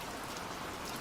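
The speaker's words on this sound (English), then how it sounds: "there's also the soft drumming of the rain on the roof." Rain drums softly on a roof in a brief, steady wash of dense patter. The sound is even and continuous throughout, with no voices.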